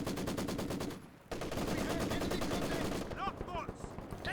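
Sniper and machine gun fire in Company of Heroes 2, sounding as dense, rapid bursts of gunshots with a brief pause, then continuing fire under faint game speech.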